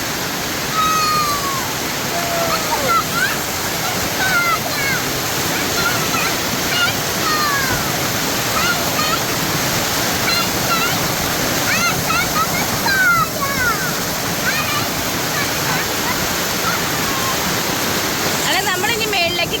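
Water from a small waterfall rushes steadily and evenly, a constant broadband wash filling the whole scene, with faint chirps and higher calls scattered above it.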